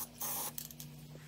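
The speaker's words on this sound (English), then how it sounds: "we need to finish it off with a little bit of spray paint" An aerosol can of spray paint hisses onto cut steel for a rust-proofing coat during an RV diesel heater vent install: a close, loud burst of spray, followed by a few small clicks and rattles of the can.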